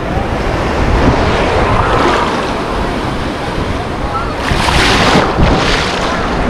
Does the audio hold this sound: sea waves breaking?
yes